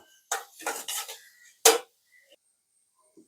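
Onions with a pinch of salt sautéed in a pan, a spoon scraping and stirring in a few short, close strokes, followed by near silence.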